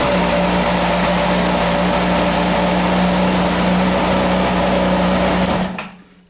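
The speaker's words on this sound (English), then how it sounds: "like we know the Honda, it starts directly" A Honda CBR600F PC41 motorcycle engine, in neutral, runs close by with a steady, loud, buzzing drone and a constant low hum, then cuts off abruptly near the end.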